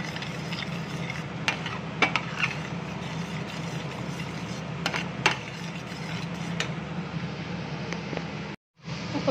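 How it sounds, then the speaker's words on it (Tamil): A homemade milk chocolate mixture with melting butter is stirred steadily in a pan, a soft continuous scraping and faint sizzle with occasional sharper clicks of the spoon against the metal. "கை விடாம கிளறுங்க."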